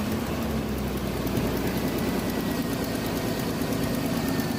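A 1984 Jeep Cherokee XJ engine idles steadily, a close, even mechanical drone with a low rumbling pulse and light vibration that holds unchanged the whole time.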